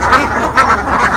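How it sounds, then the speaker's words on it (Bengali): Khaki Campbell laying ducks on a farm flock of about 300 quack loudly and close, three or four rasping calls in quick succession. "এই যে পাশে এখানে আপনার 300 পিস হাঁস রয়েছে। এটা রানিং ডিমের হাঁস।"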